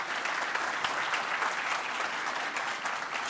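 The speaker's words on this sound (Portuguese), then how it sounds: "Uma salva de palmas, gente." Dense, steady applause from a conference audience after an industrial predictive monitoring talk, many hands clapping at once in a continuous wash, fairly close and even throughout.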